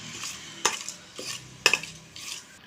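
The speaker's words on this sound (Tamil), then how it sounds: "போட்ட ஸ்பைசஸ் எல்லாம் பொரிஞ்சு விரட்டும்" Whole spices such as cloves, cinnamon, bay leaf and fennel seeds in hot oil, giving a soft sizzle broken by several sharp metallic scrapes and clinks of a spoon against the pan, close and intermittent. No voices.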